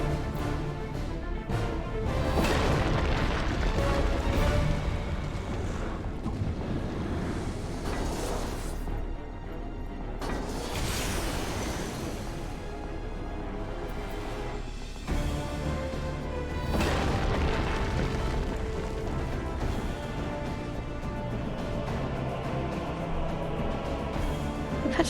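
Meteors crashing down in Final Fantasy XIV, heavy booming impacts and rumbling explosions layered over dense, continuous battle sounds and music, loud throughout.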